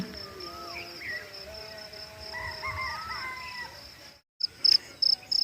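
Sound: crickets chirping

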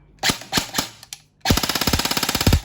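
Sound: E&C 827 Gen2 airsoft gun firing in semi-auto mode

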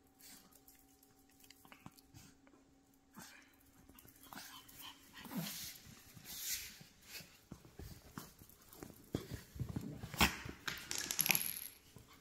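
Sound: small dogs

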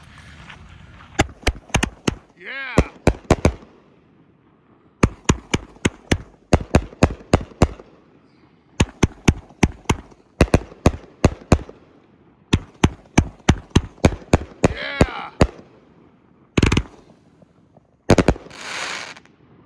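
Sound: Outlaw Pyro 25-shot firework cake going off

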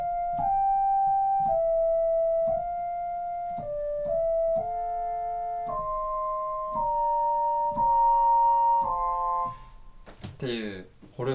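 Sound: synthesizer French horn sound

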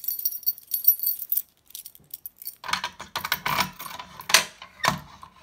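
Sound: key being taken out of a fire alarm pull station

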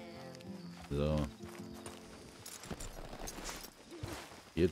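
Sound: horses in video game Red Dead Redemption 2

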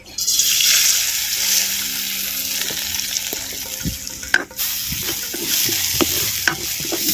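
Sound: moong dal being roasted in ghee

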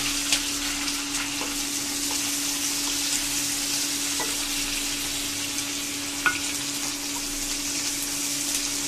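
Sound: frying green chilies and onions in a pan

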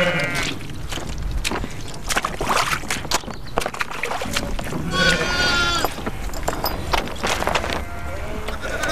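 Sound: sheep bleating at lambing time

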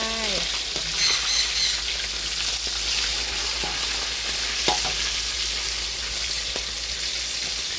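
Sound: frying fish in a pan

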